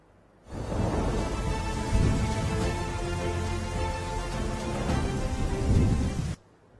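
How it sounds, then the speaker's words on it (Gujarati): Steady heavy rain hisses throughout, with low rumbling thunder rolling underneath, starting and stopping abruptly; an unseasonal summer storm in Rajkot, Gujarat. "રાજ્યભરમાં કમોસમી વરસાદ વરસ્યો"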